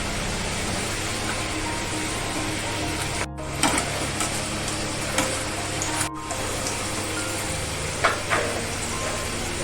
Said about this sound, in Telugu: ఇలా గోల్డ్ కలర్ వచ్చేలాగా వేయించుకోవాలమ్మా